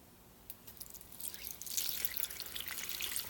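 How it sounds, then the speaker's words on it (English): Water pours into an Instant Pot pressure cooker for bone broth, a soft trickle and drip that grows into a steady, splashing stream, close and moderately quiet with no talking. "We'll pour water in the pot to 2/3 full."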